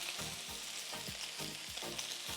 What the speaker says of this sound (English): So we're gonna cook this, leave it on this thing to cook about 5 to 7 minutes until it's browns up evenly.